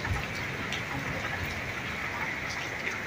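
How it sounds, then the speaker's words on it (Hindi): Heavy rain pours down steadily, a dense hiss of drops hammering a surface with no let-up, fairly close and loud. "बहुत तेज बारिश आ गई"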